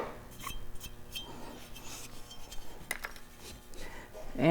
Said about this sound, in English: I just take a razor blade and flat scrape the surface